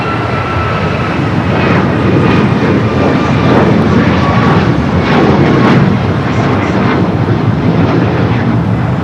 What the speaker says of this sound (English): Next takeoff, American Airlines flight 591 heading to Reagan National, 737 at MAX 8.